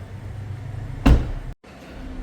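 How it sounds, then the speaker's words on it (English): Driver door of a 2026 BMW X1 M35i opens with one sharp, close latch click and thump halfway through, then a brief hush and quiet room tone. "let's go open the driver door next"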